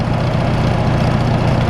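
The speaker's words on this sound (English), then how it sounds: "Allis Chalmers engine" A 1973 Allis-Chalmers 170 tractor with a 226 gasoline engine, chained to a box blade for scraping snow, runs at a steady low idle, a loud continuous rumble close by with no talk.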